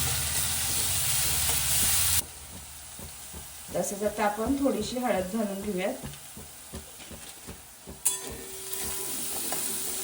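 Cumin, garlic and ginger paste sizzles and fries in a hot pan, a loud steady crackle at first that drops away and returns in bursts as it is stirred, with a person talking over it.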